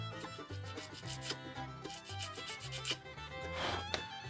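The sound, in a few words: sanding a Hot Wheels toy car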